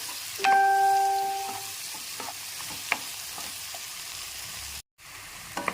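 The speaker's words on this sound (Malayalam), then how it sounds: "ഉള്ളി ചെറുതായിട്ടൊന്ന് വഴന്ന് വരുമ്പോൾ തക്കാളി ചേർക്കാം." Chopped small onions and tomatoes sizzle steadily in a pan, with a spoon stirring and scraping in short clatters, close and moderately loud, with a brief dropout near the end.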